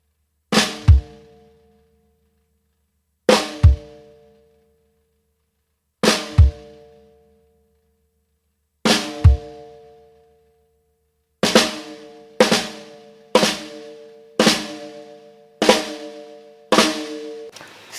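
Sharp drum hits ring out alone, first four widely spaced flam-and-kick strokes, then a quicker run of six more in a steady rhythm.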